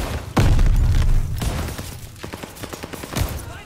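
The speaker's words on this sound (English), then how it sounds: "Grenade and a shotgun in my face." A grenade blast and close-range shotgun fire in Call of Duty: Vanguard, a loud heavy boom followed by a rumbling tail, then a series of quieter sharp shots and impacts.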